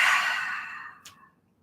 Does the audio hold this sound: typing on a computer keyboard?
no